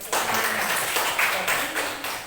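A classroom audience of students claps in short bursts, rhythmic and close, with a few distinct pulses of clapping and faint voices mixed in.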